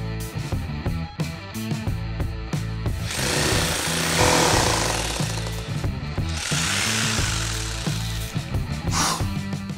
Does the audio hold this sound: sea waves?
no